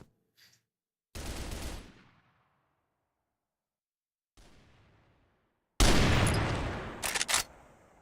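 Sniper rifle fire in CrossFire: separate loud cracks with short decaying tails, spaced apart by silence, the last followed by a quick cluster of sharp shots.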